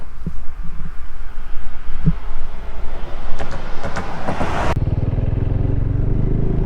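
KTM 390 Adventure EFI motorcycle riding along a road, a steady close engine drone with wind rumble and a few brief higher rattles, shifting to a deeper, smoother hum near the end.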